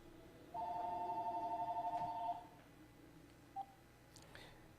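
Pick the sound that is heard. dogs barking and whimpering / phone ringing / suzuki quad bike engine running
phone ringing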